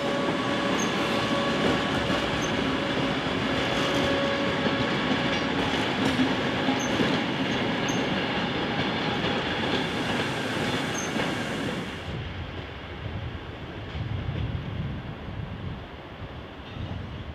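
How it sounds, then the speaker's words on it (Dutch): A locomotive towing a Mat 64 trainset rumbles steadily with rolling wheels and a faint high squeal, the noise easing and growing quieter toward the end. "Vanmiddag slepen we een treinstel type Mat 64 naar de werkplaats toe voor onderhoud."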